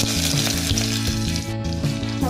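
Onion frying in oil with mustard seeds and lentils in a pan for lima bean sambar, a steady close sizzle under continuous background music with no talking.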